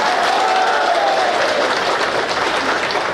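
Crowd applause at a political rally for a mass joining programme in Seppa East, Arunachal Pradesh, a loud continuous roar of many hands clapping close by, steady and sustained from start to finish.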